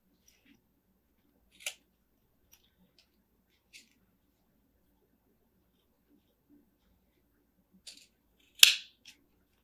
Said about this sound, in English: I'm going to go ahead and trim off the excess fabric.